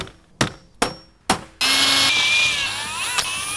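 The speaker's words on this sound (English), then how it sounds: "make sure to drill the correct sizes" Three sharp metallic taps ring out, then a power drill whirs continuously, its pitch shifting as it bores holes while installing an Andersen storm door, loud and close.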